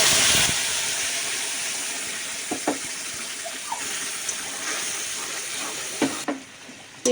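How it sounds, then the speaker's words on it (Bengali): Onions fry in a pan, making a continuous hissing sizzle that fades slightly over time, dotted with occasional light clicks and taps from stirring. "পেঁয়াজগুলো আমি ভালো করে ভাইজিয়ে নিতেছি এখানে একটু লাল লাল করে ভাজবো"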